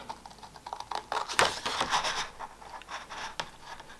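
Scissors cutting through card stock to shape a corset-style handmade greeting card: quiet, close, crisp snips and scratchy scraping in an irregular rhythm, with no talk.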